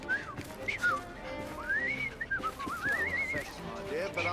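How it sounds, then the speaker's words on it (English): A game character in Victorian London whistles a wavering, sliding tune in several short phrases, close and clear, with faint background noise under it. "I've just learned to whistle."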